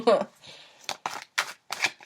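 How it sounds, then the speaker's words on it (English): Several quick riffling bursts of tarot cards being shuffled, repeated in short separated bouts, close and fairly loud, with a brief murmur of voice at the start. "I just like people to see the shuffling so they know that, you know, shit's real."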